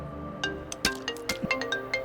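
A mobile phone ringtone plays in a Hindi-dubbed film scene: a bright, repeating electronic melody of short tonal notes, fairly loud and close, over a low musical backing with no talk.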